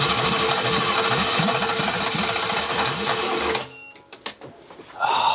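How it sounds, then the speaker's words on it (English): An old BMW engine, abandoned in a barn for some 30 years, cranks on its starter motor in a fast repetitive whirring chug. It stops abruptly, leaving a few clunks and sputters before a brief whir resumes. "I don't know how much more this starter motor can take though"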